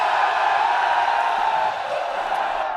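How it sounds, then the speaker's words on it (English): A large esports tournament crowd at a BGMI mobile-game grand final cheers steadily, a dense, loud roar of many voices sustained throughout with little variation. "Is the crowd not loud enough to your liking? Yeah, that's pretty loud."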